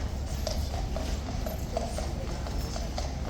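Horse hooves clip-clop steadily on hard ground at Horse Guards, a quick repeating clatter of shod hooves at moderate distance over a constant background hum, with no talk.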